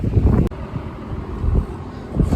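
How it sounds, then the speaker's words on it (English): Gusty wind buffets the microphone with low, rumbling bursts, interrupted by a brief sharp click. "Blimey, it's windy."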